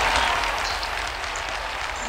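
Audience applause at a panel session on elder health and wellness, a dense, steady wash of clapping that holds at an even level throughout with no voices on top.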